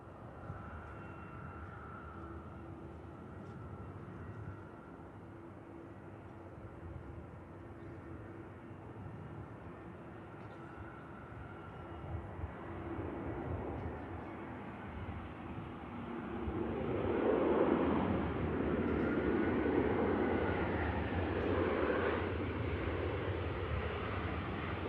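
An EasyJet airliner comes in to land at Manchester Airport, a steady distant engine roar that swells louder and nearer over the final seconds.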